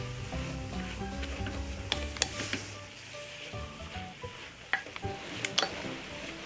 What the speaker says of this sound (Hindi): गाजर को इसी तरह से भूनते रहना है ये भूनते भूनते इसका कलर चेंज हो जाएगा